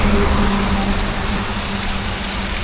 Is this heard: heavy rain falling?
yes